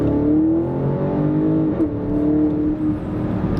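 BMW X5 50i M Sport with a 4.4-litre V8 on 22-inch wheels, driven in sport mode: steady engine drone with a rising pitch sweep and constant tyre roar, close and continuous throughout.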